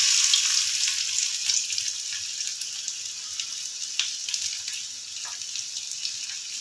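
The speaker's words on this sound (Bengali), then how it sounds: "এবার আমি এর মধ্যে যে মিশ্রণটা আমি মেখেছি আলু আর পেঁয়াজ লঙ্কা দিয়ে, ওইটা আমি এর মধ্যে আস্তে আস্তে করে দিয়ে দেব।" Spoonfuls of potato, onion and green chili batter fry in white oil, producing a steady, close sizzling hiss with small crackles and spits throughout.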